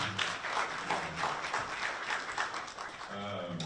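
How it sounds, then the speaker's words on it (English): An audience at an electoral-reform stakeholders' meeting applauds Dr. Charlie after his presentation with faint, steady clapping, while voices talk over it. "Dr. Charlie deserves another round of applause"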